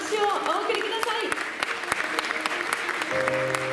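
Audience applause at the Miss World Japan Kyoto 2022 awards ceremony, steady clapping with distinct sharp claps close by, while a voice and music play over it toward the end.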